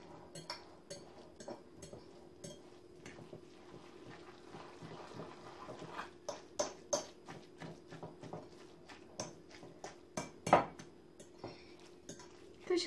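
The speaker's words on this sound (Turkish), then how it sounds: "Malzemeyi karıştırıyorum bu şekilde." A spoon works through a zucchini fritter batter in a bowl, giving quiet wet stirring with light metallic clinks that grow more frequent and louder toward the end.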